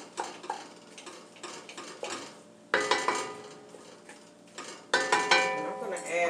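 Ground turkey being broken up in a Dutch oven for turkey chili, with a series of close metallic scrapes and clacks of a utensil against the pot in uneven bursts.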